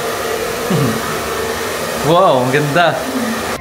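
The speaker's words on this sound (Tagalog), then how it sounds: "Ganda, may blower na sila kasama rito." Hair dryer blowing steadily in a salon at a hotel, a continuous airy whoosh running through the whole stretch while people talk and exclaim over it.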